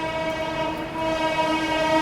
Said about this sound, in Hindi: 2 मिनट के हॉल्ट के बाद में अपनी किंग राजधानी निकल चुकी है अपने नागदा रेलवे स्टेशन से भी